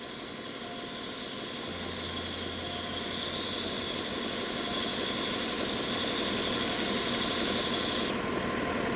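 A belt sander grinds steadily against very hard wood while a mandolin bridge is shaped, a continuous close abrasive hum that holds even, with no voices.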